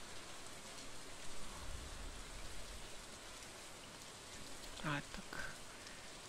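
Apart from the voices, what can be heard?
rain in video game Stardew Valley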